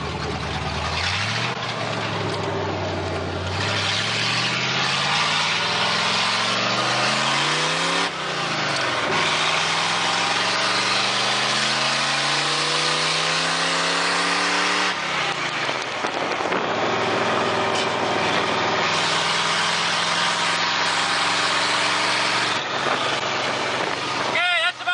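A junkyard Jeep fitted with a swapped T-18 transmission drives along at speed, its engine droning steadily and rising and falling in pitch through the gears under constant road and wind roar, with a person talking over it.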